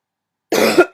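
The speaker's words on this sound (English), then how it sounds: "but I've got a cough this morning" A person coughs after a moment of silence, a harsh close cough followed by a second quick burst, loud and alone.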